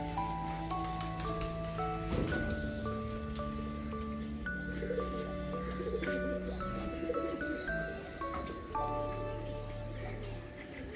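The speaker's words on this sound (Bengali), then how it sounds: "পায়রাগুলো ডাকছে" Pigeons coo softly in low, repeated throaty calls that overlap against a quiet background, fairly close by, at the Jagannath Temple in Dibrugarh.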